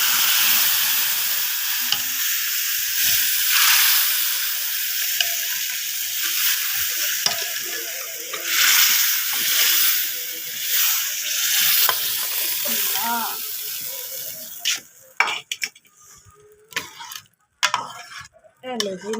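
Garlic tadka crackles loudly in a pot in a village kitchen, a strong steady sizzle with stirring for most of the time, then breaking into sparse utensil clinks and scrapes near the end.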